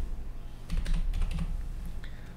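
Someone types on a computer keyboard while entering text into a PowerPoint organization chart, a quick close run of key clicks with no talk.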